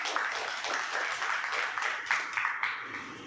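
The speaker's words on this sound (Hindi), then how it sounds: "एक बार जोरदार तालियां।" Audience applause at a school ceremony honouring class 10 toppers, a steady rippling wash of many hands clapping for several seconds with a few sharper claps standing out.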